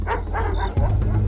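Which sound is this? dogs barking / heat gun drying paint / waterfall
dogs barking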